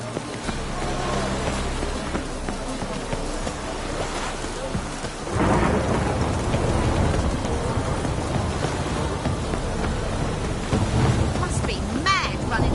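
Rain and thunder in The Witcher 3 video game: a steady downpour that grows heavier midway, with deep rumbling thunder rolling underneath.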